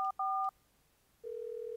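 In the video game Thimbleweed Park, a phone number is dialed with three quick touch-tone beeps, then a long steady tone follows after a short gap, clean and close with no talking.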